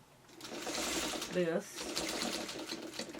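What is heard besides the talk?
sewing machine running a wide basting stitch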